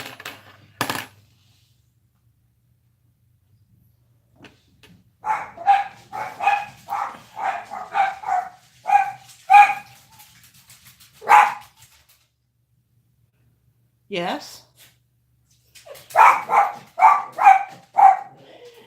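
A dog barks in a quick series of close, loud barks with pauses between, then gives a short huff, and one brief spoken word.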